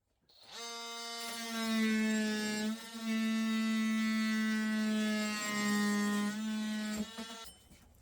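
A DeWalt DCS355 oscillating multi-tool fitted with a coarse-toothed blade cuts into MDF. It gives a loud, close, buzzing drone that holds steady for several seconds, dips once briefly, and then winds down.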